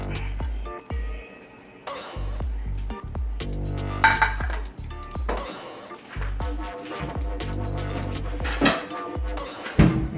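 Clinks and scrapes of a frying pan and spatula against a plate as an egg quesadilla is moved from pan to plate, a busy run of close, sharp metallic and ceramic knocks.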